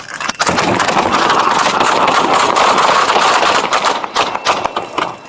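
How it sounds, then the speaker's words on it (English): Gunfire erupts during a roadside traffic stop, a loud dense burst of rapid cracks and thuds close by that fills several seconds before tapering into scattered pops. "Shots fired."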